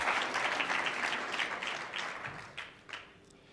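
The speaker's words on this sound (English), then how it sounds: "want to give them all a round of applause for taking time out of their day here to judge and watch the finals" An audience at a startup competition's regional qualifier finals applauds the judges, a dense wash of clapping that gradually thins and fades over a few seconds.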